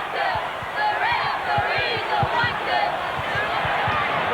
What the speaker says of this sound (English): the referee coming under some criticism from the crowd at the moment